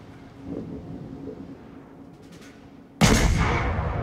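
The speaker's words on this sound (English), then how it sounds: "So I start firing on the Fuso. And then, yeah, the other Fuso starts firing on me." Naval guns firing on a Fuso battleship in World of Warships, a low distant rumble that gives way to a sudden heavy blast and a long roaring boom near the end.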